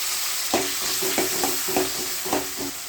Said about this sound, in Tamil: 2 வெங்காயம் 2 தக்காளி பழம் ரெண்டையும் ஒன்றா போட்டு வதக்கணும்